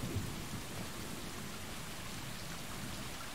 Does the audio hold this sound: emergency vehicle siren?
no